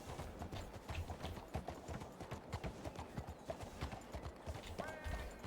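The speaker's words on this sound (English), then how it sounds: "Horse has mind of own sometimes." Horse hooves clip-clop steadily in Red Dead Redemption 2, a rhythmic run of close, fairly loud hoofbeats continuing throughout, with a brief whinny-like tone near the end.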